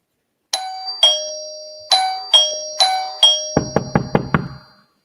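A doorbell chimes repeatedly in crisp, separate two-tone dings, six rings in a row, followed by a quick burst of lower knocks, all close and clear against silence.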